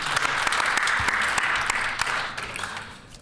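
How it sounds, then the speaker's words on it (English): Applause in a legislative assembly chamber for the house leader, brisk clapping with distinct individual claps, steady at first and then tapering off near the end. "I think we should all give him a round of applause."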